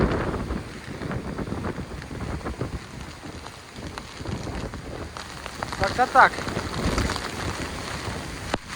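Strong wind buffets the seafront at night during a storm, with rough gusty roaring and rain-like noise, and a voice speaks briefly over it.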